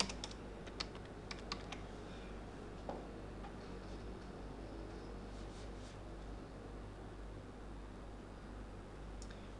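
Keys tapped on a computer keyboard while entering values into an Oracle form, scattered faint clicks in short bursts over a steady low hum, quiet and close.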